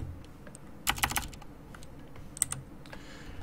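Quiet keystrokes on a computer keyboard, with a quick cluster of clicks early on and a sharper single press later, set over faint background hiss.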